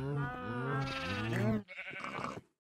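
Minecraft sheep in the FTB Revelation modpack give a close, clear, wavering bleat, then a second shorter bleat right after it.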